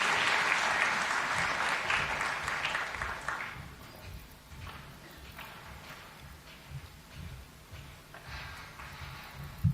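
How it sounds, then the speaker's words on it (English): Audience applause for Sheila Mbiru at an environment day event, a steady crowd clapping that softens after a few seconds and continues at a lower level throughout. "A big round of applause for Sheila."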